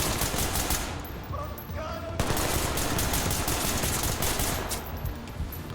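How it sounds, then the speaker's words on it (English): Gunfire in the tactical shooter Ready or Not, loud close automatic bursts hammering out in rapid strings, with a sharp burst standing out partway through. "Hey, that's pretty good shooting."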